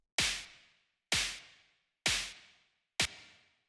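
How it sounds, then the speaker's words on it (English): Four hard-hitting, analog drum-machine-style snare hits sound alone, spaced about a second apart, each a sharp, bright crack with a short, noisy tail that dies into silence. "It's just like this very hard-hitting analog drum machine style snare."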